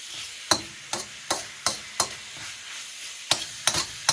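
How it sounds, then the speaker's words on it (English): A metal spoon clacks against a pan while stirring a bami goreng stir fry, about ten sharp scraping taps in an uneven rhythm over a faint sizzle, close and clear. "maybe I shouldn't be using a metal spoon, but you know what? That's what I'm using."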